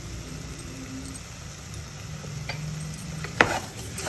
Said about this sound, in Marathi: आता आपण चांगलं हे मिक्स करूया.